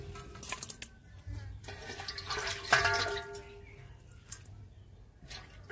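Running water splashes and trickles while pakal fish are rinsed clean in a kitchen, with a brief stronger gush near the middle and a voice speaking over parts of it.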